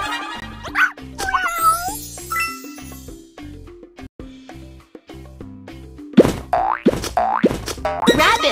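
A cartoon cat meows in a BabyBus children's video game, its bright, bending cries rising over bouncy boing effects and a plinking musical backing.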